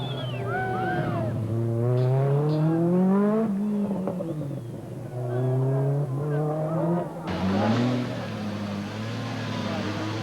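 Rally cars at the 1986 Rally Portugal howl along a very fast special stage. Loud engines rise and fall in pitch through repeated gear changes as they pass close by.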